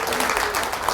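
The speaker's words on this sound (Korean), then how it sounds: "박수 한번 주시죠" Audience applause at a book talk, a brief burst of clapping from a seated crowd that continues steadily for about a second.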